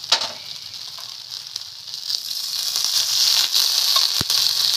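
Hot oil sizzles steadily in a pan as drumstick and potato besan fritters fry, a bright continuous hiss that swells slightly over time, with one sharp click near the end and no voices.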